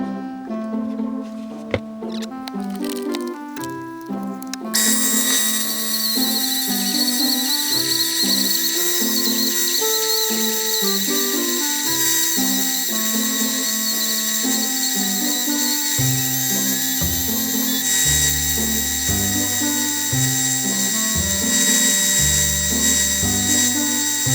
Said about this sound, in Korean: 이거를 다용도 조각기도 회전시키고 벨트 샌더기도 회전을 시켜서 바깥쪽 면을 어, 원형으로 깎도록 하겠습니다